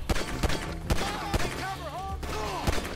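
Several sharp gunshots crack out at irregular intervals amid a busy Grand Theft Auto V game soundscape with whistling tones and background rumble.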